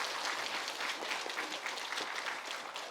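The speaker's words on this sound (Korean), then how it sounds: "박수 한번." Applause from a gathering of Buddhist temple members greeting a guest, a dense, even wash of many hands clapping close by, sustained throughout the short moment.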